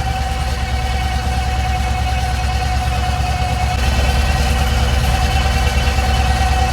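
T-25 and YuMZ-6 tractors work a field during soybean sowing, their engines a steady, close diesel drone with a constant mid-pitched hum that grows slightly heavier partway through.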